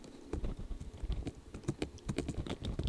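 Rapid, irregular clicking of keys on a computer keyboard while mapping in 3ds Max 2010, steady close-up tapping with no talking.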